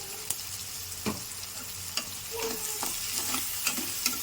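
Marinated chicken and salted onions frying in a pan while being stirred, a constant close sizzle with regular sharp scrapes and taps of the spoon against the pan.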